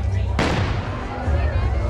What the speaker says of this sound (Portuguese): Major José Tomás Gonçalves, fez disparar seus canhões,